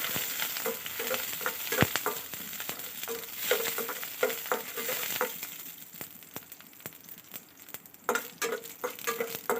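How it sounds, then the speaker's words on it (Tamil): Urad dal and fennel seeds sizzling in hot oil, a busy crackling fry close by, with repeated sharp clicks and scrapes of a spoon stirring the pan. "அதுக்கப்புறம் உளுத்தம்பருப்பு அதுக்கப்புறம் சோம்பு போட்டுருங்க எல்லாத்தையும் நல்லா வதக்கிக்கணும்"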